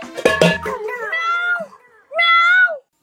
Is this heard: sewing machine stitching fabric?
no